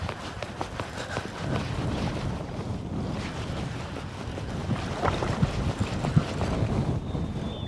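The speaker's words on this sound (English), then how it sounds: "it's absolutely freezing in the wind" Strong wind gusting across a microphone on the coast during a fishing session, a steady loud rumble with waves surging underneath, continuous throughout with no voices.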